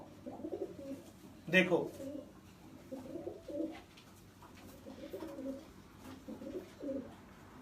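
Pigeons coo in low, soft bursts at close range, repeating every second or so, while someone speaks over them.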